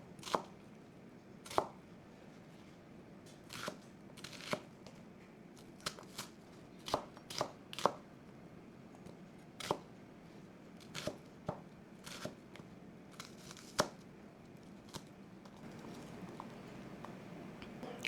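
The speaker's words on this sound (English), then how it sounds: "I'm going to go ahead and dice up our onion" A knife chops an onion on a cutting board for a beef stir fry, sharp irregular taps in quick bursts and pauses, close and fairly loud, with no talking.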